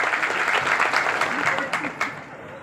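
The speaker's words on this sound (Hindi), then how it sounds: "बलरामपुर की जनता को एक बार तालियों से, जोरदार तालियों से आप लोग स्वागत करें" A crowd at a public governance camp in Balrampur, India, breaks into applause, a steady wash of clapping from a large gathering, with a voice faintly audible underneath.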